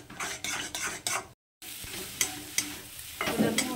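Egg bhurji sizzles in a pan while a spatula stirs and scrapes in quick repeated strokes, close and steady, with a brief dropout partway through and no voices.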